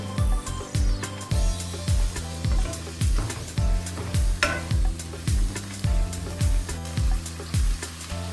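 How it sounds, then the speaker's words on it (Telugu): Mint and coriander leaves fry with carrot in a pan for vegetable biryani, a loud steady sizzle broken by regular scraping strokes of a spoon, about two each second, close up with no talking. "కొద్దిగా పుదీనా, కొత్తిమీర వేసేసి బాగా ఫ్రై చేయండి."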